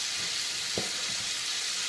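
Mince browning in a pan gives a steady, loud frying sizzle with a dense hiss throughout and a brief scrape or stir partway through.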